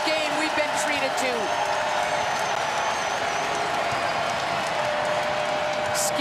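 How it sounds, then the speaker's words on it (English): A sold-out basketball crowd at the Kennel roars steadily through a late stretch of a Gonzaga versus Utah game, a dense, continuous wall of cheering and whoops with scattered claps and no break. "Sold out crowd here at the Kennel is up and roaring."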